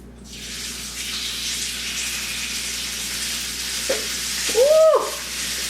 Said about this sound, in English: you want to put it directly onto your hot pan